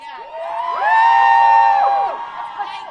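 Crowd at a street protest outside the RNC headquarters cheering and whooping, many voices swelling into a sustained high shout that peaks and then tapers off, loud and close.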